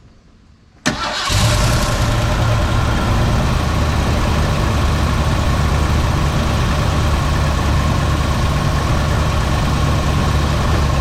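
A 1970 Ford Torino V8 with freshly worked carburetor cranks briefly, fires up loudly and settles into a steady, rumbling idle, heard close and alone.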